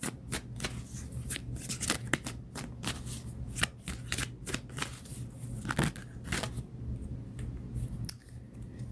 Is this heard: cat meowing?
no